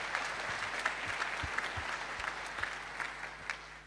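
An audience at a security conference gives a round of applause, a steady patter of many hands clapping at moderate distance with a few sharper claps standing out, continuing throughout.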